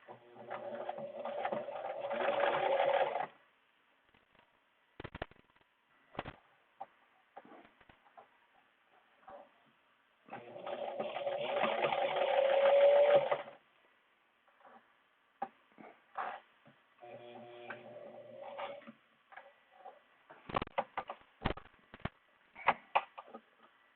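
A sewing machine stitches a reusable mask with a HEPA filter insert in three separate runs of steady mechanical whirring, with quiet handling clicks and pauses in between and no talk.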